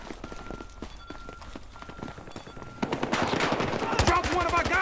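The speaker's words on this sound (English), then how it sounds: "Do not stop shooting." Rapid bursts of gunfire from the video game Battlefield Hardline rattle off in repeated automatic strings, growing louder and denser toward the end, with game noise around them.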